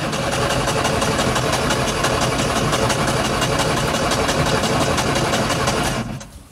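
An off-road vehicle engine at a Reșița off-road challenge runs at a steady, loud idle for about six seconds, then cuts off abruptly near the end.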